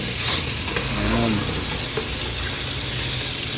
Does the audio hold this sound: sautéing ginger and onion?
yes